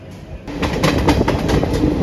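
The Puri–Tirupati Express runs with a steady rumbling roar and rhythmic clatter of wheels on rails, heard close from on board, starting up abruptly after a quieter moment, with no voices.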